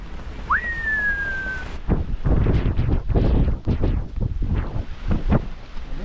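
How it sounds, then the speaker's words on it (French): A short whistle sounds first, then heavy, rising wind gusts pound the microphone on a sailboat at anchor off Fernando de Noronha in loud, uneven bursts that keep coming. "Le vent qui est monté, monté, monté."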